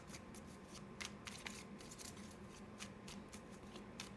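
Tarot cards are shuffled in a series of quick, soft riffling flicks, close and quiet, with no talking.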